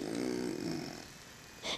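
A young boy imitates snoring with his voice, a short rasping, throaty drone followed by a brief breathy burst near the end, quiet and close to the microphone.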